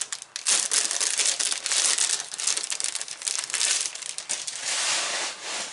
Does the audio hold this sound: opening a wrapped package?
yes